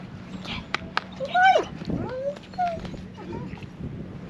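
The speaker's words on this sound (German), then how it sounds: "hier sind so viele Hunde." Several dogs at an old fortress bark, yip and whimper in short scattered bursts, moderately near, with outdoor background noise and a person's voice now and then.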